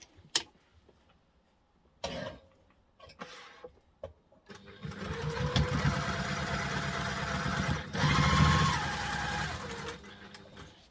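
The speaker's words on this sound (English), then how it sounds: "And now we're just going to sew that on." Near and loud, a sewing machine sews a piece onto a reusable duffle bag in one sustained run after several sharp knocks and clicks of the fabric being set in place.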